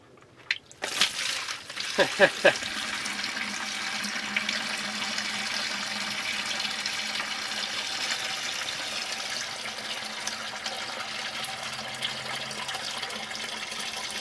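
Water splashes and pours steadily from a Farmall tractor transmission drain plug, a continuous rushing flow with a few sharp knocks near the start.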